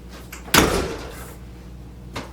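A door in a soundproofed room of a mobile test trailer swings shut with one solid thud that rings out briefly, followed by a faint click a moment later.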